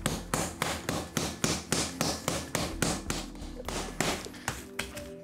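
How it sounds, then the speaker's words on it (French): Guinea fowl breast pounded flat with the side of a knife blade on a board, a steady run of about fifteen close, loud thuds at an even beat with no talking. "Avec le plat de notre couteau, on va briser la fibre"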